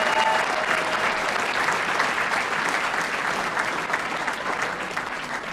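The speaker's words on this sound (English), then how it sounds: "Please give our faculty and staff a great round of applause." A crowd at a Mardi Gras spirit gala applauds faculty and staff, with continuous, even clapping that holds steady for the whole stretch.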